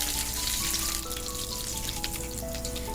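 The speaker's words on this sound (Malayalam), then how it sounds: "ഇനി ഇത് വെളിച്ചെണ്ണയിലോ 1/2 ടീസ്പൂൺ നെയ്യിലോ വറുത്തെടുക്കാം." Cashews fry in coconut oil or ghee in a pan, giving a steady, close hiss and crackle that continues unbroken, with a faint tonal hum in the background.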